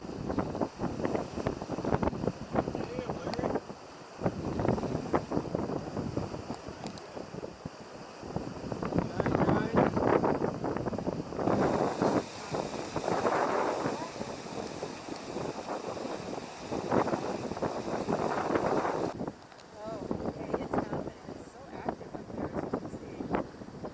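Strong wind of 25 to 38 knots roars past a J109 sailboat racing at Governor's Point, with water rushing alongside. The gusty, buffeting roar continues throughout, with muffled voices at times.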